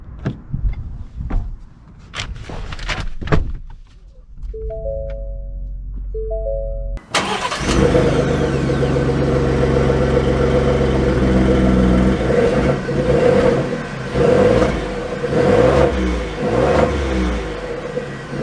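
A 2021 Ford F-150 Tremor starts after a few mechanical clicks and chimes, its engine catching and settling into a steady loud idle, then rising and falling in revs as the truck pulls away.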